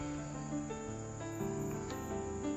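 Potato with chilli powder and cumin frying in a pan for Bengali aloo chop, a steady close sizzle and hiss with no talking.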